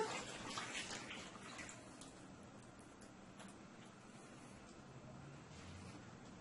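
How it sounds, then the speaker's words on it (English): Freshly squeezed coconut milk pours steadily into a pot of fish broth with fried snapper, a continuous liquid splashing and gurgling heard up close with no talking. "I am going to add my freshly squeezed coconut milk"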